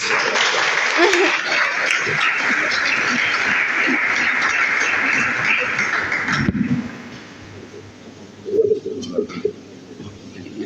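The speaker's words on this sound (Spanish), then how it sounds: "Aplausos." Audience applause at an evening book launch in Bolivia fills the first six seconds as dense, steady clapping, then cuts off abruptly, leaving a quieter room with scattered bumps and a brief voice.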